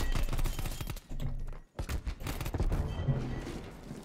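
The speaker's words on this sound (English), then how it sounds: "Good frag grenade." A frag grenade goes off in a video game, a loud burst of explosive gunfire-like blasts with a brief drop to silence midway, then more heavy thumps and rumbling.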